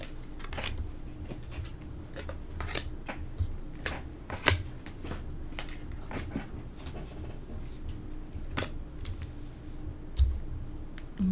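Oracle cards being shuffled by hand close up: a quiet run of soft papery riffles and taps with a few sharper clicks, no talking.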